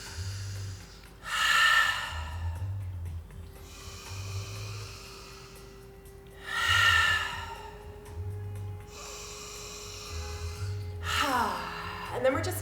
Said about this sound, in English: Take 3 deep breaths with me.